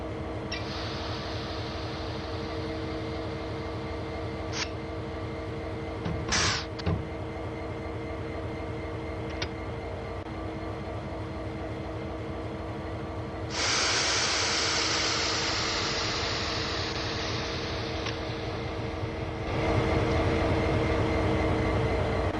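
A locomotive on Sand Patch Grade in Train Sim World 3 drives onto a turntable, its steady diesel engine droning with a low rhythmic rumble, brief clanks and squeals, and a rising hiss partway through.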